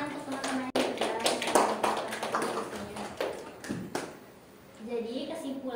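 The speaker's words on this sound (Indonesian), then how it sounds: "Kasih tepuk tangan untuk teman-teman yang sudah" Scattered hand clapping from students in a classroom for their classmates, irregular and uneven, with a voice and other talk mixed in and a speaking voice at the end.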